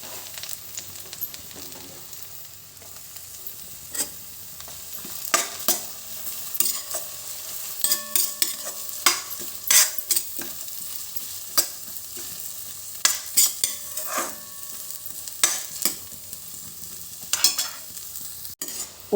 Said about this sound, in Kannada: ಒಂದು ನೀರುಳ್ಳಿ ಕಾಯ್ದು ಇಂಚ ಕೆಂಪಾಂಡು